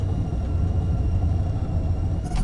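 Spaceship in the game Rebel Galaxy accelerating to sublight speed after burning through a planet's atmosphere: a steady, loud low rumble and whir holds throughout, with a brief brighter swell at the very end.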